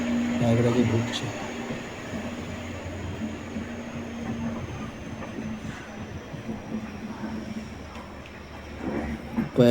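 Train slowly entering Prayagraj station, a steady low rumble and rattle of the carriages heard from on board, with a faint hum throughout and a louder jolt near the end.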